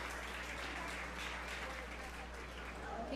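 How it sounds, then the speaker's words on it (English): Applause at a 4-H fair beef show for heifers, a continuous close wash of clapping over a steady low hum of barn or arena equipment. "So let's give these heifers a round of applause."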